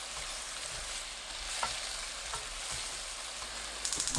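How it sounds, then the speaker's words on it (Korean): Eggplant frying in a pan with chopped Cheongyang chili and seasoning being mixed through, a steady soft sizzle broken by light scraping stirs and a few clacks near the end. "가지가 익으면 불 끄고 청양고추, 양념 넣어 골고루 섞어주세요."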